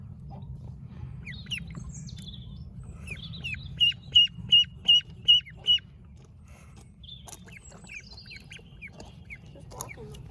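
Ducklings cheep while being washed, with scattered high chirps and a quick run of six evenly spaced peeps, close by over a low rumble of running water.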